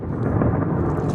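Thunder follows a lightning strike during a storm chase in the Somme, France: a deep, dense rumbling roll, loud and close, filling the whole brief moment without any voices.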